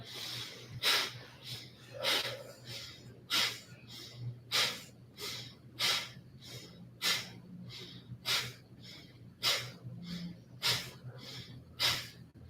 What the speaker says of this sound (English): So we're going to inhale.